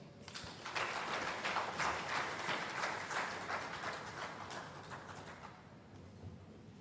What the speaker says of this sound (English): Please, another applause for the resident as she comes to sit